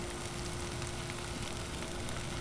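Corned beef hash with potatoes and onions frying on a 22-inch Blackstone griddle gives a steady, dense sizzle with no pauses, close and even throughout, with a faint constant hum underneath.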